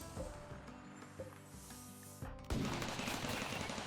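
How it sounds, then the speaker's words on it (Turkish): Several turrets in the RimWorld video game fire together, producing rapid overlapping bursts of gunfire that grow into a dense, continuous barrage near the end, quiet in level and without speech. "Baksana kaç tane taret aynı anda sıkıyor şu an."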